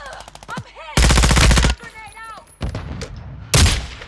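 Bursts of automatic gunfire ring out during a round of the video game Warzone 2.0, two loud sustained volleys and a third short burst, with someone talking excitedly in between.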